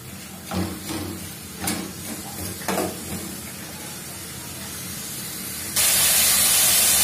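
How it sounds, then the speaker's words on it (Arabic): Chopped onion with a pinch of salt cooks in a pan: a few scraping, clacking stirs over a low sizzle, then a sudden loud, steady hiss near the end. "ونبداو نشحروا في هاد البصله هذه يعني حتى تطيح واحد شويه"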